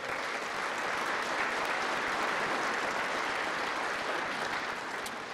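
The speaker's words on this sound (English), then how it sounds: "That's an applause line." A crowd fills the U.S. House chamber with sustained applause, a dense, even wash of clapping that stays loud throughout and eases slightly at the very end.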